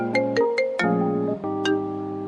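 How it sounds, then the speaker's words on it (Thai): A mobile phone ringtone plays in a Thai radio drama: a bright, close electronic melody of quick stepped tones, loud and steady, repeating over about two seconds with no voices. "ขอรับโทรศัพท์แป๊บหนึ่งนะคะ"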